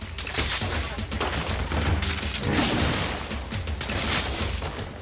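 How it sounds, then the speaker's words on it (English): Spikers in inFamous 2 loose a dense, continuous barrage of pellet fire, a steady crackling rattle with scattered impacts holding a constant, fairly loud level throughout. "They stop and they shoot their little pellets at dudes"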